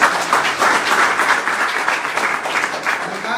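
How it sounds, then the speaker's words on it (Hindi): An audience bursts into loud, steady applause, with a dense wash of many hands clapping together for several seconds. "एक बार जोरदार तालियां।"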